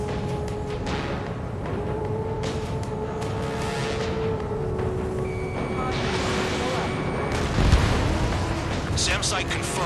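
Explosions as a SAM site is destroyed during a mission in the video game Ace Combat 7, deep rumbling blasts and a sharp boom near the end, under steady jet engine roar, electronic warning tones and radio voices.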